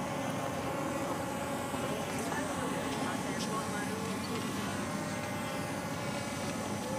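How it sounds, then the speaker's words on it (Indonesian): A P8 Pro GPS drone flies outdoors with a constant, droning propeller whine that holds steady and loud throughout. "Drone GPS kayak gitu ya, drone GPS."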